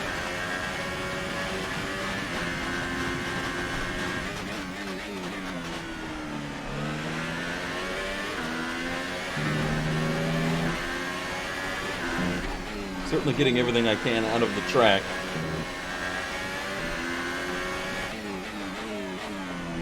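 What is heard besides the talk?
F1 car engine from video game F1 2018, Bahrain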